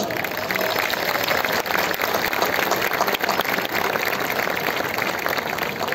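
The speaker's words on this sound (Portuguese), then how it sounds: "Uma grande salva de palmas!" An audience at an outdoor municipal garden event applauds loudly for several seconds, a dense, steady wash of clapping from many hands with faint crowd noise beneath.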